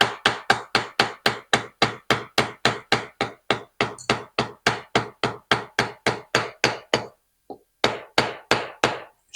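A hammer handle taps a TH350 transmission part into place with about thirty sharp, evenly spaced knocks, close and loud, pausing briefly near the end before a few final blows.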